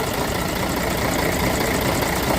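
A 1969 Scania 110 turbocharged diesel truck engine ticks over at idle nearby, an even, continuous low rumble with no voices over it.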